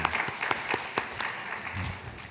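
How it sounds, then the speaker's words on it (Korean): A church youth congregation applauds in praise, giving a fairly close burst of clapping with distinct sharp claps over a softer continuous patter that thins toward the end. "하나님께 영광 박수 올리겠습니다"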